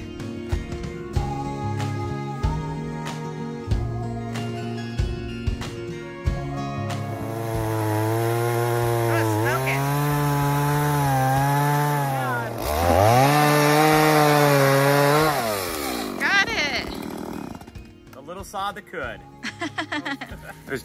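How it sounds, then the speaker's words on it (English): A small chainsaw cutting into a hundred-year-old cedar log, idling in short bursts before revving into a loud, sustained whine that rises and falls as it bites the wood, close by, then dropping back to idle. "we're gonna do what we can with this little saw and show you that they're actually pretty cool little saws"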